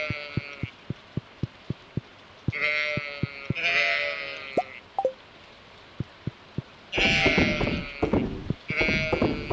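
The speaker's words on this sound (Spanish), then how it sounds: "A ver si me da tiempo a acabar las ovejas." Sheep in the farming game Stardew Valley bleat in several loud, close calls. Between them come rapid, regular clicking taps, and a brief lull falls mid-way.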